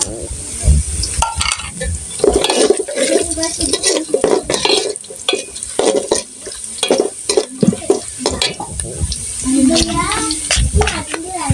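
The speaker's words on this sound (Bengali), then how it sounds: "এখানে তেজপাতা এলাচি লবঙ্গ আর দারচিনি আছে এগুলো আমি দিয়ে দিচ্ছি" Onions frying in a pan sizzle loudly and steadily while bay leaf, cardamom, cloves and cinnamon are tossed in and stirred with a utensil scraping the pan, a voice and talking heard over it.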